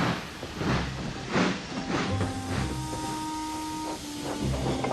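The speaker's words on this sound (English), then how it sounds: "with a low toot, Thomas chuffed sadly back to Tidmouth" Model steam engine from a Thomas the Tank Engine remake chuffing along, rhythmic hissing puffs of steam with a low whistle tone held beneath, steady and close.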